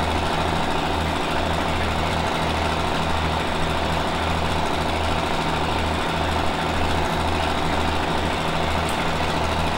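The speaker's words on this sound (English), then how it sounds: "Does sound good, doesn't it, a little tractor?" Small tractor engine from Farming Simulator 17 runs steadily at a low, even drone, close and constant for the whole stretch with no talking over it.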